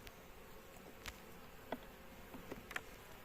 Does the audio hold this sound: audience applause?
no